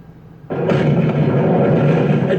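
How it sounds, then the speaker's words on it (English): A sudden explosion in documentary footage hits as a sharp onset, then a loud sustained roar and rumble that fills the rest of the moment, with no speech. "A devastating explosion,"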